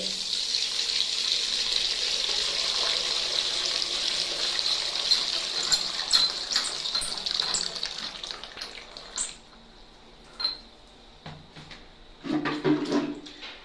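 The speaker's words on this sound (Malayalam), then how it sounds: "ഇതുപോലെ വെള്ളം നിറയ്ക്കുക" A steady gush of water pours onto cow dung in a container for several seconds, then stops, followed by a few brief knocks and handling sounds.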